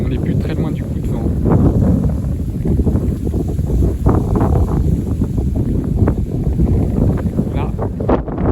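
Strong southerly wind gusting near 70 km/h blows steadily across the microphone, a loud continuous buffeting roar with rustling gusts throughout, and a voice speaks faintly beneath it.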